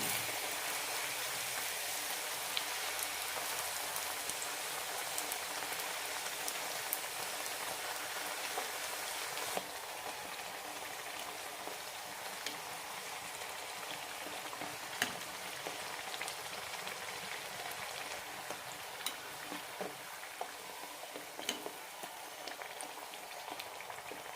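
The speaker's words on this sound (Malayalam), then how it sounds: "ലോ ഫ്ലെയിമിലിട്ട് വറുത്തെടുത്താൽ മതി" Oil sizzles and crackles steadily as masala puri deep-fries on low flame, a dense, even hiss with scattered pops and no voices.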